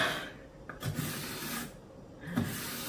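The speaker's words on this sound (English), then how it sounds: "I enjoy sharpening knives, it's so much fun." Knife being sharpened, with rough rasping strokes close up, about four to five uneven passes over under three seconds.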